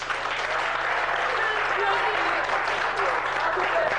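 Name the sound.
audience applause for a speaker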